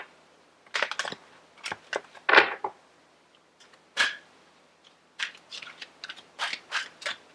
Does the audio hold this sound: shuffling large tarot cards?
yes